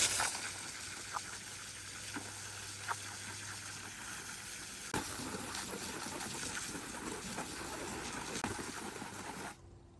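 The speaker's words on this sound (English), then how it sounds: "I have a bird bath here that needs to be rinsed out, so I'll do that with the hose." Water from a garden hose rinsing out an outdoor bird bath, a steady close gush and splash running almost unbroken under occasional faint clicks before cutting off at the end.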